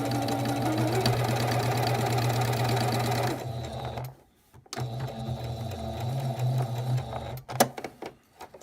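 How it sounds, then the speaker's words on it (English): A sewing machine stitches quilt pieces for a pinwheel quilt, running steadily and loudly up close for about three seconds, pausing briefly, then running again in a second burst that stops abruptly. "gonna set my needle for up because I'm gonna sew off the edge"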